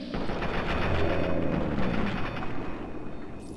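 Sustained gunfire in Fallout 3, a dense, steady barrage of shots that holds loud and close for several seconds, with no clear pauses in the rapid firing.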